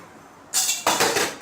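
Mustard seeds crackle and splutter in hot oil in a kadai on a gas stove, a sudden burst of dense, close sizzling popping that flares up twice and keeps going without any talk.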